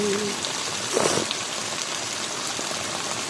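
Steady rain in Dubai hissing continuously, a dense, even wash of drops with no talking.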